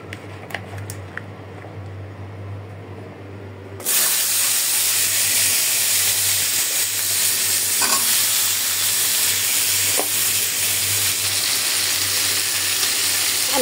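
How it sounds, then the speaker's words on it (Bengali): Vegetables such as beans and cauliflower tossed into hot oil after fish, a quiet few seconds of light clicks then a sudden loud, steady hissing sizzle with occasional stirring scrapes, no voices. "আমি সবজিটা বেশি ভাজবো না, হালকা করে একটু ভাজতেছি।"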